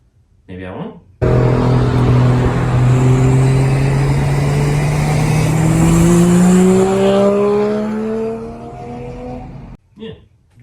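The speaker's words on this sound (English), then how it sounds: "I made a incredibly high tucking oval stainless exhaust for my 1JZ swapped Toyota Cressida. It sounds incredible." A 1JZ-swapped Toyota Cressida with a high-tucked stainless oval exhaust pulls hard, its loud, close engine note climbing steadily in pitch for about eight seconds before cutting off, with brief quieter sounds at either end.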